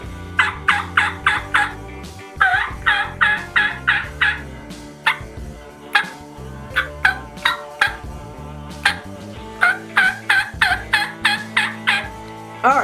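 A homemade turkey diaphragm mouth call blown in a loud, close series of sharp yelps, clustered in quick runs of four to six with brief pauses between.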